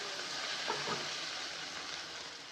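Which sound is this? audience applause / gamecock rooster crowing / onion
onion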